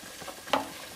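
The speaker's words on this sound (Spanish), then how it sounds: "Vamos a esperar a que este adobo" Chili adobo sauce hits hot oil in a pan with one brief, sharp sizzle and spatter, set against a low, faint background hiss.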